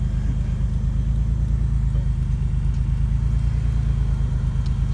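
A Turbo Legend car is driven along, its steady low engine drone and road rumble holding even and continuous throughout, with no voices over it.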